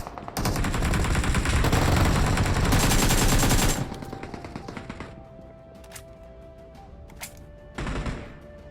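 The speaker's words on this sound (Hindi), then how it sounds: "चारों तरफ देख लो भाई गन का साउंड" Dense, sustained automatic gunfire all around in the PUBG battle royale game, loud bursts for several seconds, then scattered distant shots and a final short burst.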